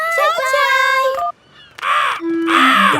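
Cartoon seagulls give harsh, squawking cries in short bursts, with a brief silence between two loud calls. A voice may be producing the cries.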